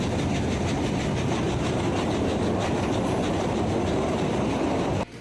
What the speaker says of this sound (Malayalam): ഈ ഒരു ട്രെയിനിൻ്റെ പ്രത്യേകത, ഇതിൻ്റെ പവർ കൊടുക്കുന്ന എൻജിൻ പിറകിലാണുള്ളത്